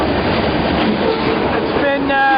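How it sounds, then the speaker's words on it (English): A passenger train rolls steadily on its rails, bound for Cleveland or Pittsburgh. The rumble is loud and continuous from inside the car, with a brief tonal whine near the end. "Still on the same train here."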